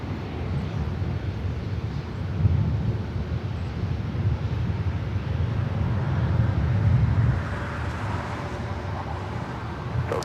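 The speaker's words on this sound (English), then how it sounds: "Copa 737 MAX 9 heading to Panama City. Next takeoff on the 24 left." A Copa Airlines Boeing 737 MAX 9 takes off from runway 24 left at LAX, heard as a steady low roar of jet engines with wind noise. The roar swells in the middle and then eases, with no voices.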